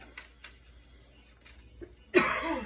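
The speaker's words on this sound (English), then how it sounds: "with me starting to cough now" After a few faint clicks and small noises in a quiet room, one sudden, loud, close cough bursts out near the end.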